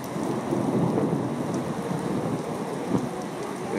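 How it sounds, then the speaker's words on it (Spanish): Steady heavy rain pours down with a low rumble of thunder during the first rain of the season in Chihuahua, Mexico, a dense, continuous wash of sound with occasional louder gusts. "es bien recibida, bienvenida la lluvia"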